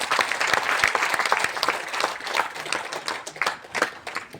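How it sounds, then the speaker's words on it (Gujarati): Audience applause for an honoured guest at a gathering, loud sustained clapping from many hands throughout, dense and steady with individual claps popping out, no talk. "એકવાર રમેશભાઈ માટે જોરદાર તાળી"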